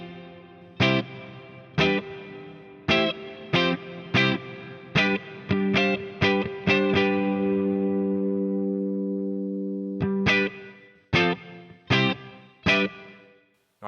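Bass guitar through the Neural DSP Archetype Abasi plugin with room reverb, a run of sharp plucked notes and chords, one long sustained note decaying gradually mid-phrase, then more crisp attacks, each followed by a short ambient tail.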